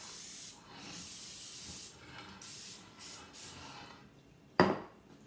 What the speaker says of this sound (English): you always want to spray your pan so nothing sticks.